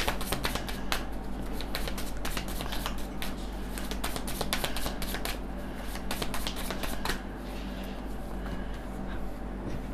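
Rune stones being shuffled for a reading, giving a steady run of close, crisp clicking and clattering over a constant low background hum.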